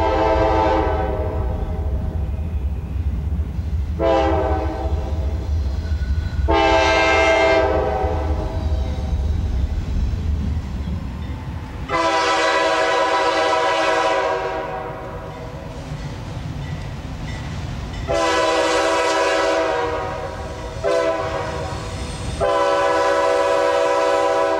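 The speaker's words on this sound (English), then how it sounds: "Here's Q213 crossing over to number one and then on to the line to Baldwin." Freight train Q213, a long mixed consist, rumbles past while its horn sounds in several loud, sustained blasts separated by pauses, with the heavy low roll of the cars underneath.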